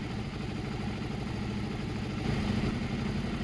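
A Suzuki SV650 motorcycle engine runs steadily at close range with an even, throbbing low rumble, its pitch and loudness lifting slightly toward the end as it is revved.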